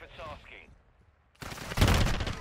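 Assault rifle fire in a first-person shooter video game breaks out suddenly as a dense, loud burst of rapid shots, after a short stretch of speech and near quiet.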